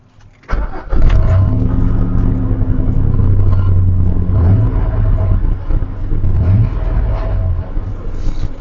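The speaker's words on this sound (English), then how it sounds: "I love the sound of this truck." A truck engine cranks and catches around the half-second mark, then settles into a loud, steady low rumble with a couple of brief revs.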